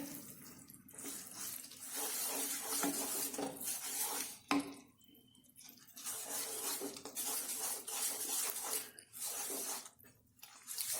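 Jaggery melting in ghee in a kadhai over a slow flame, stirred steadily: continuous sizzling hiss with soft scraping strokes, brief pauses and one sharp clink of the spoon against the pan.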